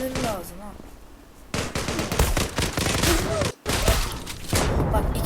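Rapid automatic gunfire from the online shooter game Zula rattles in dense bursts, loud and close, broken by a brief silence, while a voice talks excitedly in the background.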